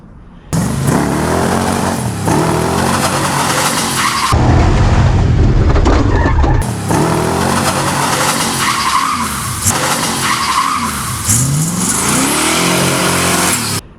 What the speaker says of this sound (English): Some burnouts. A little bit of donuts.